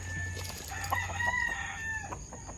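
Backyard roosters crowing nearby, with one drawn-out cock-a-doodle-doo call and others overlapping against a steady outdoor farmyard background.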